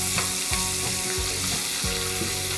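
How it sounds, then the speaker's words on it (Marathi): Onion frying in oil with mustard seeds, cumin, asafoetida and curry leaves, a loud dense sizzle that runs continuously up close, with soft rhythmic stirring thumps underneath. "आणि मस्त सोनेरी रंग येईपर्यंत कांद्याला परतून घेऊया"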